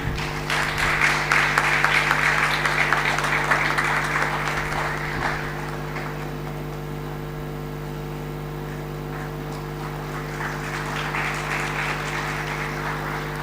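Applause from a conference audience for award recipients, fairly steady at first and then thinning out into softer scattered clapping, over a constant electrical hum in a hall.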